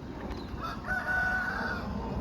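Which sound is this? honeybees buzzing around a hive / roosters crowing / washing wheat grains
roosters crowing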